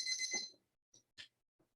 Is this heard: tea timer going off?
yes